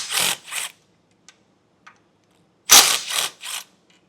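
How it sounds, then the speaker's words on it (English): A ratchet wrench loosening the 13mm bolts that hold the bumper beam on a 2022 Chevrolet Equinox, heard as two bursts of rapid clicking separated by a pause with a few faint taps, close and fairly loud. "start by removing these 4 13mm bolts holding our bumper beam"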